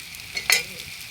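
Garlic hits a pan and fries with a short, close sizzle that flares sharply for a moment, then settles back to a low hiss.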